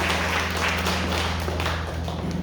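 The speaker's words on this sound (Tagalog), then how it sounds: "palakpakan natin ng malakas na palakpak ang ating Panginoon" A church congregation standing and clapping loudly for the Lord during worship, a dense, steady roar of many hands over a low sustained musical hum, no voices on top.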